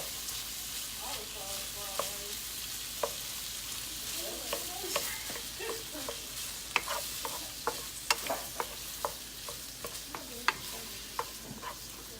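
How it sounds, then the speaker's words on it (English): Vegetables sautéing in a hot pan for cauliflower shrimp fried rice, a soft continuous sizzle broken by frequent sharp utensil scrapes and taps, with faint voices in places. "So I just want to saute those a little bit."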